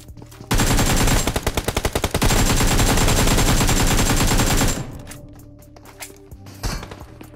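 Rapid automatic gunfire and a sniper shot in the mobile battle-royale game PUBG Mobile, a loud dense burst of shots running for about four seconds, followed by scattered fainter thumps and quieter game sounds.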